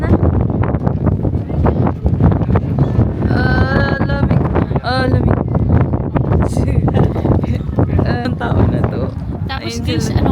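Strong wind buffets the microphone outdoors, a rough low rumble running throughout beneath people talking.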